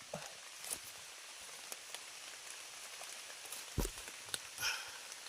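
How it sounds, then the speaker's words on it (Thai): Rain patters on the forest canopy and undergrowth in a soft continuous hiss, with occasional louder drops and faint rustling footsteps close by. "ฝนตกมาอีกแล้ว"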